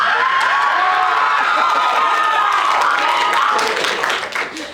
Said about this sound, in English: There was more applause for that than gender equality